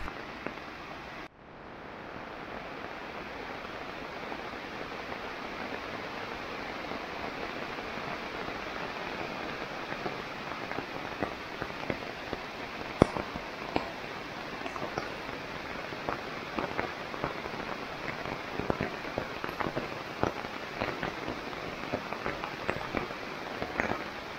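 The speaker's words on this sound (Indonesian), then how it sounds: "tiba-tiba terjadi hujan lagi" Steady heavy rain pours down on a campsite near a waterfall in a dense, continuous hiss, with scattered heavier drops pattering nearby throughout.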